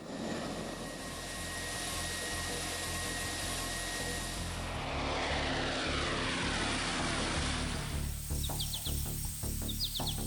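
A propeller aircraft such as a P-3 Orion drones steadily overhead, a continuous engine and airscrew roar that holds a broad even level throughout, with no voices.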